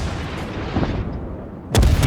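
Naval guns fire in World of Warships, a muffled rumble of distant shots followed by a sudden loud, sharp boom near the end.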